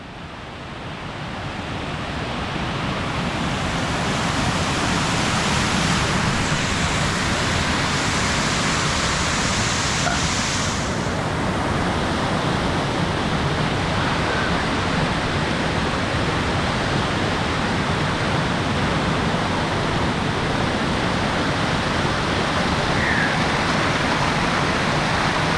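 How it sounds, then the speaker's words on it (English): Steady rushing roar of a man-made waterfall in Vietnam, a dense, continuous wash of falling water that holds close and loud the whole way through, with no voices. "I saw this amazing man-made waterfall, and I had to dip in the water"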